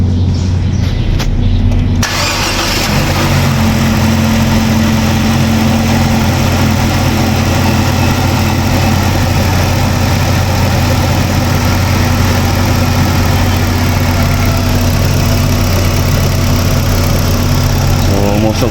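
A Nissan Juke HR16 engine cranks and starts, then settles into a loud, steady idle with a constant low rumble and vibration that continues throughout.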